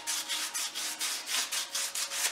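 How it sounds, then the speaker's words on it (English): Rhythmic back-and-forth strokes of 220-grit sandpaper smoothing the edges of a wheel, a steady raspy scrubbing repeated about every quarter second, close up and fairly loud with no voices. "I'm doing now is sanding down the edges, making it smooth with a 220."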